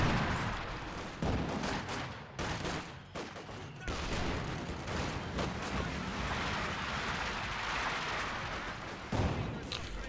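Anti-tank guns fire in the Company of Heroes 2 game amid dense battle noise, heavy booming shots and crackling gunfire layered continuously with a voice talking faintly underneath.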